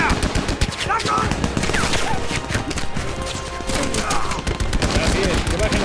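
Heavy machine gun fire in a World War II tank battle against machine gun nests in a war film, relentless rapid bursts with crashes and impacts, loud and continuous, with shouting voices under the din.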